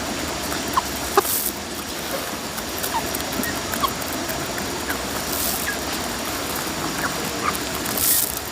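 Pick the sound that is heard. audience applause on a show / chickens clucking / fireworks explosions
chickens clucking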